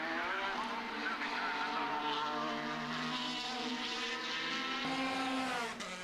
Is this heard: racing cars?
yes